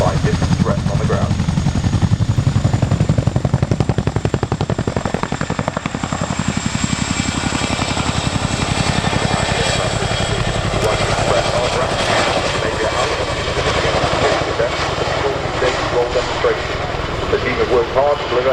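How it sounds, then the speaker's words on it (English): An RAF Chinook helicopter flying a role demonstration at the RAF Cosford Airshow, its loud continuous twin-rotor roar and engine whine filling the air throughout, with a commentator speaking over the public address. "The aircraft can quickly depart the area while minimising the risks presented by different threats on the ground."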